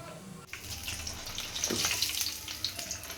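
Chicken 65 pieces deep frying in hot oil give a steady, close bubbling sizzle that swells slightly, with a brief clunk at the start.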